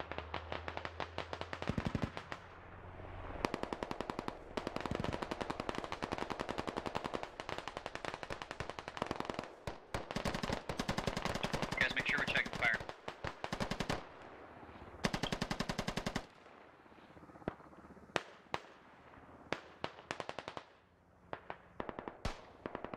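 Heavy gunfire in the military shooter game Squad: long sustained bursts of automatic fire, dense and loud, with brief pauses and a few isolated single shots toward the end.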